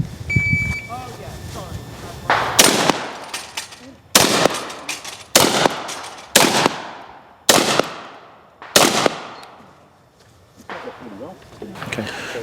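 Shotgun blasts ring out at a practical shotgun shooting match, a series of six loud, sharp reports at irregular intervals, each followed by a decaying echo, with voices and faint background talk between shots.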